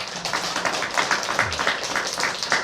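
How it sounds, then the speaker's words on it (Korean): A church congregation at a Sunday worship service in Tongyeong applauds with steady, dense clapping throughout, fairly close and moderately loud, with no talking over it. "박수 한번 주십시오."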